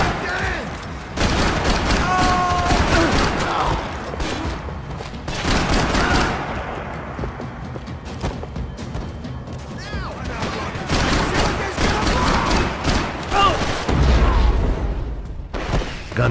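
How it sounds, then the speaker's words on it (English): Sustained bursts of gunfire ring out over Hoboken in a Max Payne video game cutscene, loud and dense, with heavy, repeated volleys and booming reports filling most of the clip. "Gunfire over Hoboken."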